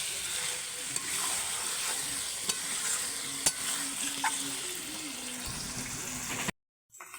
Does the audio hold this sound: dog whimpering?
no